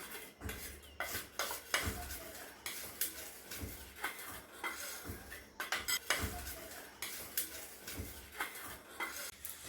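Steady scraping and clinking of a utensil stirring a thick hair dye mixture in a bowl, repeated strokes in an irregular rhythm, close up with no talking.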